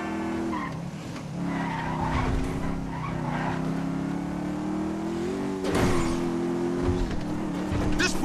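In Grand Theft Auto 5, a car and a big motorcycle race in a chase, with a loud, steady engine drone, shifting revs and repeated tire skids and squeals close by.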